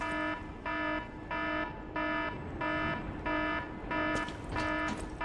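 In the video game Lies of P, an electronic alarm repeats in eight even, steady pulses at a moderate distance, each a toneful beep of about half a second, with other faint game sounds in the background.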